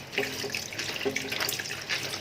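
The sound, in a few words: rinsing papaya under running tap water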